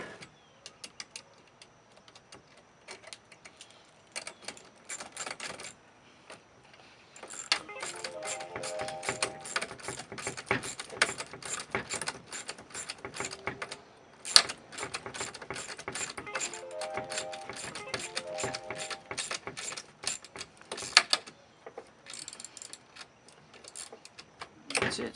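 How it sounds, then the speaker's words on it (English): A 10mm socket wrench ratchets a nut onto a bolt on a kayak seat, giving long runs of fine, rapid, close clicking with brief pauses, while a voice talks at times. "Grab your 10mm socket and your Phillips screwdriver."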